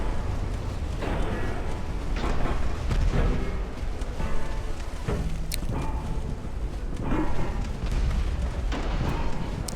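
Naval gunfire in a dreadnought-era warship battle in Ultimate Admiral: Dreadnoughts, a run of deep booming shots and rumbling blasts at irregular intervals over a continuous low roar, with faint speech underneath.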